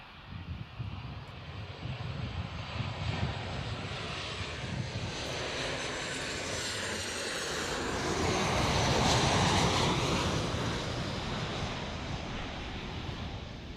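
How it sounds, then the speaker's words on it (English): A Qantas Boeing 737 jet on runway 14 at Gold Coast Airport gives off a broad, continuous engine roar with a whining hiss, swelling gradually to a peak and easing slightly, heard from a moderate distance. "This is Qantas 737 now on 14 here at Gold Coast Airport."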